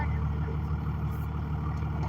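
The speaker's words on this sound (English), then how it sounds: "It's a loud truck." A loud truck engine rumbles and idles steadily up close at a border crossing, a deep continuous drone filling the whole moment.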